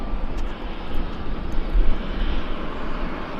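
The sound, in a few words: airliner engines at Vancouver airport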